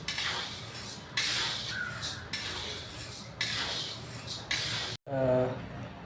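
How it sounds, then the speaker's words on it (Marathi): Lentils being dry-roasted and stirred in a pan over a low gas flame, a close, steady scraping and rustling of spoon against metal in bursts that run for about five seconds before a short break. "छानपैकी बारीक गॅसवरती बराच वेळ आपल्याला हे भाजावं लागणार आहे"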